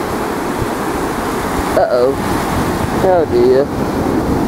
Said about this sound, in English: No, it's the sea trying to get me.